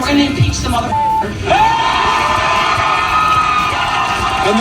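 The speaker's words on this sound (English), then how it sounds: "And the crowd cheers." A cheering political rally crowd roars loudly and steadily, with whoops and shouts swelling throughout, a voice briefly audible at the start.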